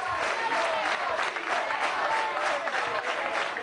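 A crowd at a youth event in Venezuela, where the president hands out credits and housing, applauds him with dense, sustained clapping that holds steady from start to finish.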